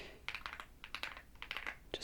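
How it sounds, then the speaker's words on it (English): Keys clatter on a computer keyboard in quick, irregular bursts of typing with short pauses between, close and soft in a quiet room. "just typing nonsense."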